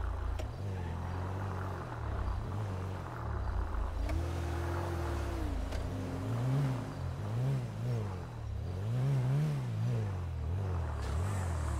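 A car engine in a video game drives steadily, its low hum rising and falling as the revs climb in repeated surges. It stays close and prominent throughout, with no talking.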